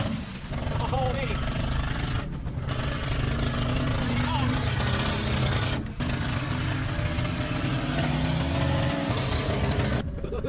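A 1984 Chevy square body truck, left rotting in the woods, runs with a steady, continuous engine rumble close by throughout, with a faint background of voices and no break in the drone.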